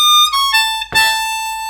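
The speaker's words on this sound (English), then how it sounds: "And you're doing a glissando from the 9 blow bend down to the 7" Playing a blues line, a harmonica glides downward from a bent 9 hole blow to the 7 blow, landing on a bright, sustained reedy note heard close and alone.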